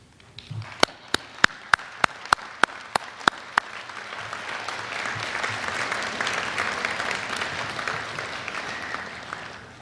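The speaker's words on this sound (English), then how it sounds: "give a big round of applause to everybody here that is supporting you" Applause from a gathering at a school event, beginning with a few loud, sharp individual claps before swelling into broad, steady clapping that carries to the end.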